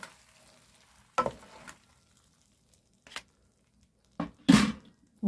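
Korean spicy squid stir-fry being stirred after a little sesame oil goes in, heard as short bursts of sizzling and scraping separated by near-silent pauses, close and without speech.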